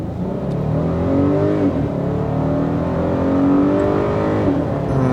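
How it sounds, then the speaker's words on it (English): A 2021 Volkswagen Atlas Cross Sport SUV engine in sport mode revving loudly and holding a high-RPM, sustained drone as it accelerates, heard from inside the vehicle. "You might be able to hear the engine just stays up at that high RPM"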